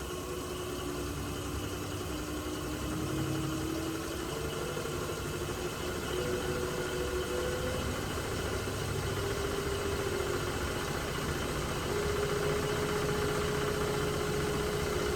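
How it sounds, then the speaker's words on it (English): A wood lathe turns a glue block under a 5/8 gouge, giving a continuous rough whirring drone with steady vibration and faint tonal whines, close and unbroken throughout. "We're going to use a 5/8 gouge, and we're going to expect that it's going to be kind of rough."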